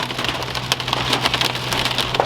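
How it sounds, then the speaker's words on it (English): Large hail pelting a car during a storm, a dense, continuous clatter of impacts with sharper, louder cracks scattered throughout over a steady low rumble. "He's hailing up a storm in here."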